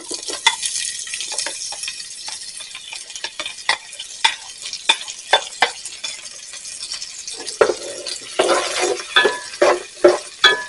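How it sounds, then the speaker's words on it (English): Leeks sizzle in a frying pan while a utensil stirs them, giving a steady crackling hiss broken by repeated scraping strokes that grow busier toward the end, close and fairly loud with no talking. "Then we're going to add in our leeks."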